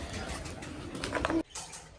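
A fancy pigeon gives a soft, brief cooing call close by, a low murmuring coo lasting about a second before it stops abruptly, with faint background noise around it.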